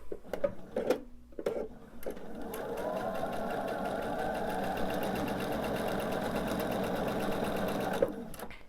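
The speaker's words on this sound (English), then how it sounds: "and sew my scant 1/4 inch seam." A sewing machine runs steadily for several seconds, stitching a scant quarter-inch seam through two quilt triangle pieces placed right sides together, after a few short handling clicks at the start; close and continuous.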